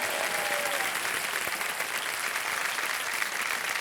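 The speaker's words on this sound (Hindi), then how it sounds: "तालियां बज जाए इनके लिए बहुत जोर" Studio audience on the KBC quiz show claps loudly and continuously, a dense, even wall of applause that fills the room.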